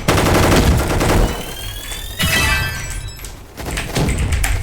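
Rapid gunfire bursts in the Roblox game Gunfight Arena, with loud automatic shots, sharp cracks and glassy breaking sounds, separated by brief lulls before the shooting resumes.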